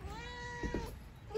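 Kittens meowing on a goat-milking morning, a long drawn-out mew with clear harmonics followed by shorter cries, close and fairly loud with no talk over them.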